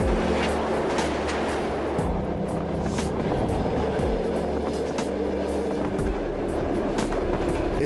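A train running on rails across frigid Russia, with a loud, continuous rolling roar and rhythmic clickety-clack of wheels over rail joints, heard close from on board with no talking.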